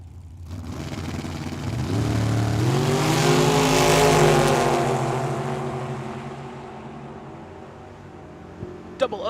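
A 1999 dragster and a Chevy launch side by side down a drag strip, a loud rising engine roar that builds, holds, then fades as they pull away, followed by a couple of sharp pops near the end.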